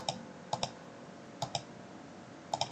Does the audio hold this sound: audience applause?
no